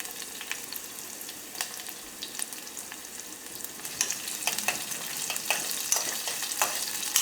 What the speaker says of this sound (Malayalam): സവോള എണ്ണയിൽ കിടന്ന് നന്നായിട്ട് മുരിഞ്ഞിട്ടുണ്ട്.